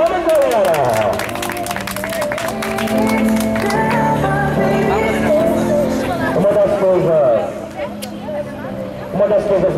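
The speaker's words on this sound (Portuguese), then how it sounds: "Uma salva de palmas, galera!" A crowd at a school entrance in Madureira applauds and cheers, with loud, sustained clapping mixed with chatter, voices talking over it and music underneath, easing briefly before rising again.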